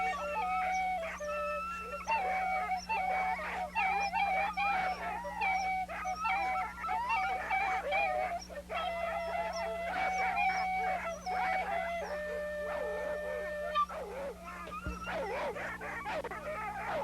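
Excited sled dogs before a Jr Iditarod race, a crowd of them barking, yelping and howling continuously and loudly in an overlapping chorus, with no talk over it.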